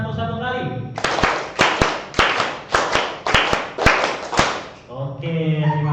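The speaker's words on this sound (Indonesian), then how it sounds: "Tepuk 1, tepuk 2, tepuk 3, tepuk 4." A group of teachers at a training workshop claps in sharp, synchronized bursts, about nine loud claps in an uneven counted rhythm, with voices talking briefly in Indonesian before and after.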